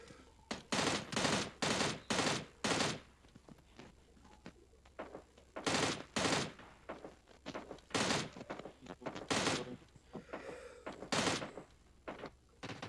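Gunfire in the video game PUBG Mobile Lite comes as loud bursts of rapid shots, first in a quick cluster, then in spaced single and double volleys, with quieter game sounds between them.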